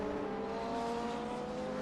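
A race car roars past at close range during a race at Circuit of the Americas (COTA), its engine a loud, steady high-pitched drone that fills the short stretch without a break.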